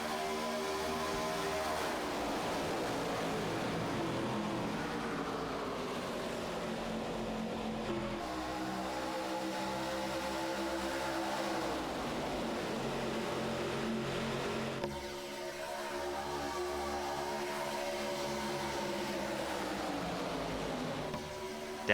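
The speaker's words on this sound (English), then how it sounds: "the sound of over 35 cars roars into turn 1 here at Daytona" More than 35 NASCAR stock cars roar into turn one at Daytona during the 2004 Pepsi 400. The loud, continuous engine din rises and falls in long sweeping waves as the pack passes, with no talking.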